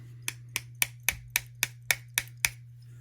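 Pins are tapped out of a Benchmade Mini Griptilian knife with about ten sharp, evenly spaced metallic taps, close and crisp over a steady low hum.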